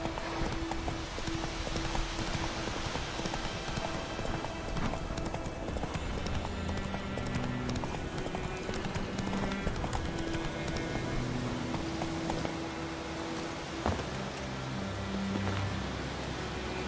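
Roach the horse gallops in The Witcher 3, with a fast, continuous clatter of hooves running through the whole stretch over ambient game sound.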